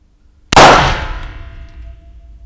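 A blank pistol fitted with a .68 rubber-ball adapter fires a chalk-loaded ball: one sudden loud metallic bang with a clanging ring that slowly decays over about two seconds, with no voices.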